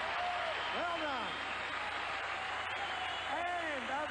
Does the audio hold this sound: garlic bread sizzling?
no